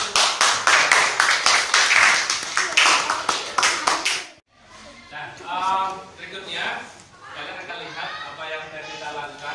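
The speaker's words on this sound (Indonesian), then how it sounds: "Tepuk tangan dong." Classroom clapping during a fifth-grade math lesson: a burst of rapid claps for about four seconds, then a pause and a voice speaking afterward.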